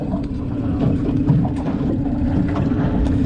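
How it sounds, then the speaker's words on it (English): Strong 30-knot wind buffets a boat, a steady loud low rumble of gusting air and microphone buffeting that fills the clip without pause. "it's literally like 30 knot pumping wind"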